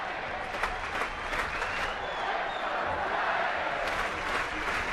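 Large baseball stadium crowd of over 41,000 cheering and clapping for the home Giants in the ninth inning, a steady, distant roar with scattered claps and whoops, a commentator's voice faintly underneath.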